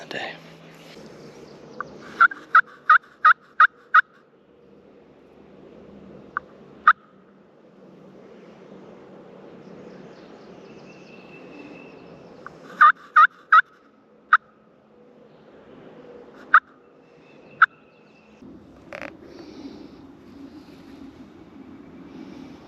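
Wild Osceola turkeys gobble in a Florida public woodland, several rapid loud bursts in clusters followed by a few isolated single gobbles over quiet outdoor background.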